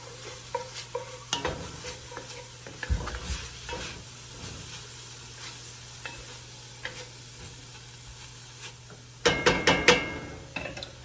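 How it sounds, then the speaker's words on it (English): Garlic and spices stirred in a pot while making turkey and cannellini bean chili, a soft sizzle under scraping spoon strokes and occasional clinks, with a louder cluster of knocks near the end. "So we've got our garlic in there, and we're going to add our spices. Give that a little stir"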